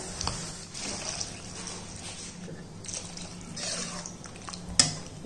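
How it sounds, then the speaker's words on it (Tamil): Water pours into a pan of lightly sautéed vegetables for a noodle dish, a soft steady trickle and splash lasting several seconds with a brief louder splash near the end, fairly quiet. "இப்ப காய் வேகிற அளவுக்கு நம்ம நல்லா தண்ணி ஊற்றிக்கிடுவோம்."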